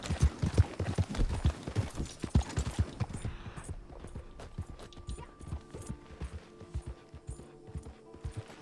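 Rapid clip-clop of a horse's hooves as a rider gallops in a video game, loud and close at first, then thinning to lighter, sparser steps.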